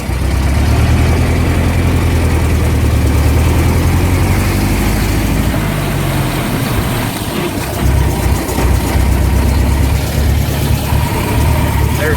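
A 1914 Regal Underslung touring car's engine runs close by with a steady low rumble and loud chugging, dipping briefly mid-way before picking up again.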